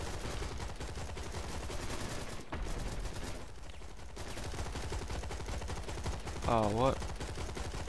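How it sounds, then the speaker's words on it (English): Dense, continuous automatic gunfire from shooters in the video game Dark rattles throughout, briefly dropping off midway, with a short exclamation from a man over the shots. "What the hell are they shooting at?"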